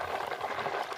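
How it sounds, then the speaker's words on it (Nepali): Ghee heats in a pan and boils, a close, dense bubbling crackle that holds steady throughout. "उम्लिँदा उम्लिँदा उता खनाउन पर्ने अवस्था आयो आजको घिउ तताई"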